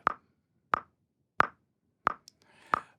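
Logic Pro X metronome set to 90 BPM in 4/4, five evenly spaced sharp clicks heard alone, close and clean.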